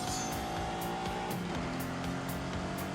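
A Lamborghini Countach with a 5.2-litre V12 races in The Grand Tour game, its loud, steady engine roaring without a break, with faint tire noise and no talking.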